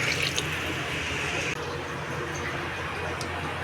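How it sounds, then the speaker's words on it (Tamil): Water poured into a pot of cauliflower soup being cooked with spices, a steady wash of running, splashing liquid that continues evenly and fairly quietly throughout. "தேவையான அளவு தண்ணி ஊற்றிக்கலாம்"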